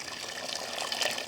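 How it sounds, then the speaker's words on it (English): Hot boiling water pours from a kettle into a turkey brine mix of salt and sugar, giving a steady close splashing gush with no talk over it. "And now, hot boiling water."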